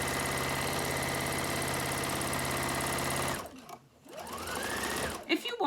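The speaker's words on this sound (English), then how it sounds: "I'm going to do a row of zigzag on the seam, just to neaten it off" A sewing machine stitches a zigzag row along a fabric seam on a peg bag, a fast, even mechanical whirr running steadily, then stopping, followed by quieter handling sounds.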